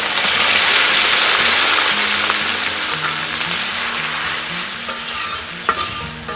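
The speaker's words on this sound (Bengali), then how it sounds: "এবারে কড়াইয়ে একটু পানি দিয়ে দিচ্ছি যেন পেঁয়াজটা পুড়ে না যায়" Onions for halim hiss and sizzle loudly in a wok after a splash of water, a strong steady frying roar that eases slightly, with a few clinks of a spatula near the end.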